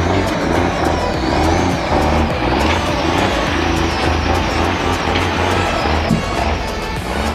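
A truck carrying wood rumbles past with a loud, steady engine drone and low rumble, mixed with other heavy road traffic and possible air-brake hiss, no talk.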